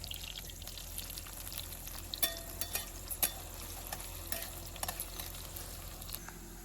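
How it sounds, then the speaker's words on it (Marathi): Onions frying in hot oil in a pan over a village wood-fired stove, a steady soft sizzle with scattered crackles and light stirring clinks, heard alone without talk. "आता तेल गरम झालं, कांदा टाकतो."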